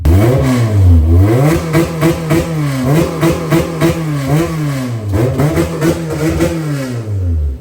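Car fitted with aftermarket headers and an open exhaust, revved hard over and over, the engine pitch climbing and dropping in repeated loud sweeps with a raspy, close-up tone.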